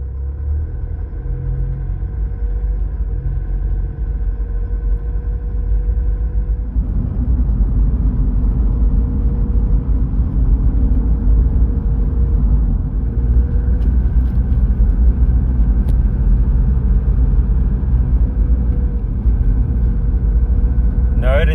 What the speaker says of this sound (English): We'll now go for a short drive and see that the car will try to start regenerating.